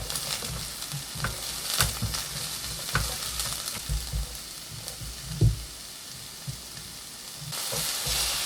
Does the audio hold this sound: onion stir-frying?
yes